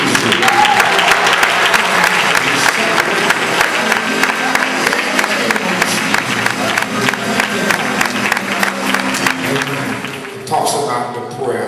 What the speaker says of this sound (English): And with clapping hands, we praise you.